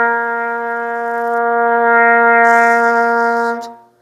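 A trumpet holds one clean, steady note for about three and a half seconds with the breath going out through the mouth alone, full and bright, swelling slightly in the middle before stopping.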